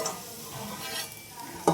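Food frying in a pan, a soft steady sizzle with light stirring scrapes and a sharp utensil knock at the very end.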